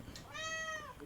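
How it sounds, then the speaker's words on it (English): A single cat gives one short, clear meow indoors, close to the microphone, with faint room noise before and after. "Shut up, cat!"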